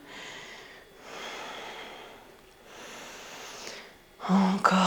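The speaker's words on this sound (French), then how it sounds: "On inspire, on expire." Slow, audible breaths during a neurofunctional yoga session in Warrior 2 pose: three long airy inhale-exhale cycles, soft and close, followed by a sharper, louder nasal exhale at the end, with no talking.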